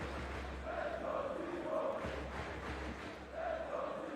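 French fans in the crowd at a CS:GO StarLadder Major Berlin 2019 quarter-final cheer and chant steadily, a dense arena roar with rising and falling voiced swells, heard from a distance beneath the hall's ambience.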